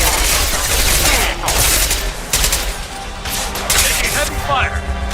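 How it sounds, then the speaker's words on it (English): Heavy sustained gunfire from the video game Mass Effect 2, dense overlapping bursts and automatic fire filling the whole stretch loudly with crashes mixed in, under a voice. "Taking heavy fire."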